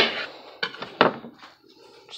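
Kitchen knife chopping an onion into smaller pieces on a board, a few distinct close knocks and scrapes spaced irregularly over about two seconds, with light clatter between cuts and no talking.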